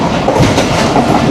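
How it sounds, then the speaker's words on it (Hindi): Close, loud rumble of the Rehman Baba Express passenger train running on rails in Pakistan, a dense steady roar of wheels and carriage noise with no voices. "48 डाउन रहमान बाबा एक्सप्रेस का सफ़र चल रहा है"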